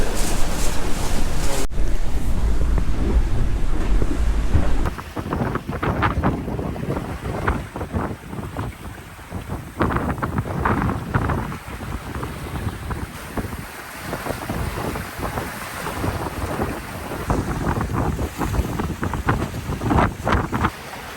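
A sailboat under way at sea, with strong wind buffeting the microphone and waves washing and slapping against the hull in a continuous loud rush, with no talk.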